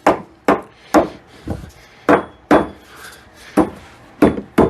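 An old tree barker is dragged and struck hard against wooden fence pickets to distress them, giving about nine sharp, close woody knocks and scrapes in an uneven, fairly quick rhythm.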